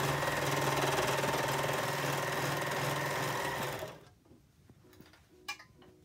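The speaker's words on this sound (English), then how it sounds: "Then you can fold the top and it's ready for serging the sides." A serger stitches down the sides of PUL transport bags, its motor chattering loud and steady for about four seconds before stopping abruptly, leaving quiet room noise with a couple of small clicks.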